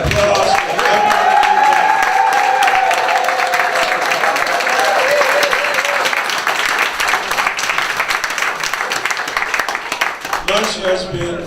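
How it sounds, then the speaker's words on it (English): An audience gives Reverend Charles Williams a sustained round of applause, loud and thick with cheers and voices mixed in, tapering slightly near the end as talk begins. "Let's give Reverend Charles Williams a round of applause."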